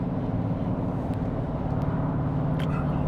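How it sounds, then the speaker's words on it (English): Steady low-frequency road and tire rumble inside a moving car with worn tires, a continuous loud drone throughout with no talking. "Maybe there won't be so much road noise."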